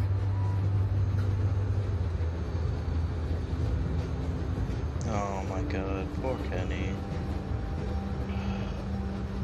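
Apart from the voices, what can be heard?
moving train in The Walking Dead video game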